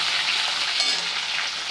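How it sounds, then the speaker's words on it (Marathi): Spices, dried and green chillies, curry leaves, bay leaf and grated ginger sizzle in hot oil as a tempering for raw mango rice, a steady close frying hiss with no one talking. "छान परतून घ्यायची आहे ही फोडणी"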